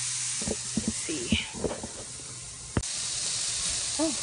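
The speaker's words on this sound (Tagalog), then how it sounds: "So lagay muna natin ang iba sa grill para maluto." Pork barbecue skewers hiss and sizzle on a grill, a soft steady frying crackle under scattered clicks and knocks as pieces are laid down, with a voice briefly heard toward the end.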